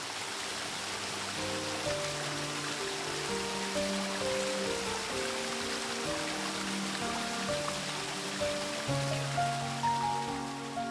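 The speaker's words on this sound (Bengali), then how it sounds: "জঙ্গলে ঠান্ডা পরিবেশের মধ্যে পাখির আওয়াজের সঙ্গে ঝর্ণার শব্দ" A small waterfall in a forest village pours as a steady, continuous rush of water, with sustained tonal notes running through it the whole time.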